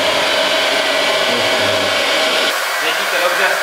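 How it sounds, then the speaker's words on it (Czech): A hair dryer blows steadily and loudly at close range during a men's haircut styling session, with its tone shifting partway through as the setting or nozzle angle changes. "teď ti dám fén a vyzkoušej si to sám"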